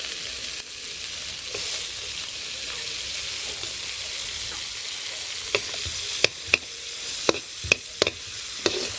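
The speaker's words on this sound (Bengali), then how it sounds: "তেলের মধ্যে পেঁয়াজ আর রসুন দিয়ে দিলাম" Onion and garlic sizzle in hot oil over a clay stove at night, a steady frying hiss broken by several sharp clicks and scrapes of stirring toward the end.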